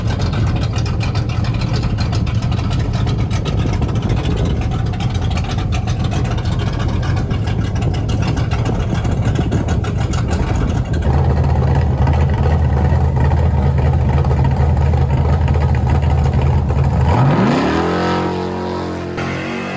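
Drag racing cars with 3,000 to 4,000 horsepower engines roar at a drag strip, one sustained, very loud, throbbing engine blast. The pitch climbs sharply near the end as the car pulls away, then the noise fades.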